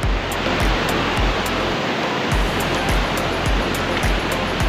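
A loud, constant rush of turbulent floodwater after heavy rain in Konkan, seen from a bridge where two rivers meet, broad and roaring like a swollen river, with a regular low thumping underneath.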